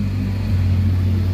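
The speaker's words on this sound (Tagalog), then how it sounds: "Traffic man." Road traffic, a brief steady low engine hum and rumble close by, with no other distinct sounds.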